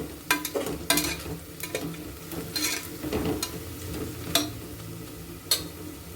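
Onions frying in a pan for Mallika biryani, a steady close sizzle broken by several sharp taps and scrapes of a utensil stirring against the pan, with no voices.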